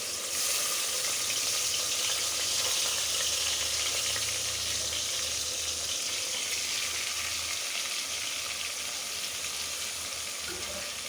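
Onion, turmeric, chili, tomato and ginger-garlic paste fry together in a pan for a catfish curry, giving a steady, close sizzle throughout with no talking.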